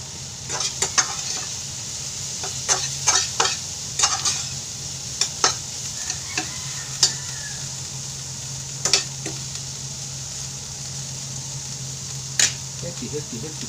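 Healthy fried rice with cabbage stir-fried in a pan, a steady sizzle broken by repeated scraping clinks of a spatula against the pan at an uneven rhythm.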